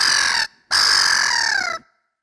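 A human voice imitates a harsh, nasal black-headed gull cry: two strained calls, a short one followed by a longer drawn-out squawk, close and loud.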